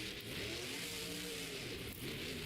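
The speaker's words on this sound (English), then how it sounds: "we have Chad Tingler doing his racing pass right now" A Monster Jam truck engine roars during a racing pass in an Albuquerque arena, a loud, sustained revving drone with shifting pitch and heavy crowd-filled hall noise.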